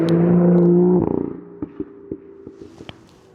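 A loud BMW M2 (F87) holds a close, strong engine drone for a second, then lifts off into a run of sharp crackling exhaust pops that fade out.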